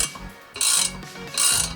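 Parts being screwed into a Yamaha XV Virago engine during camshaft work: two bursts of close metallic ratcheting, each about a quarter second long, with quiet mechanical clicks between them.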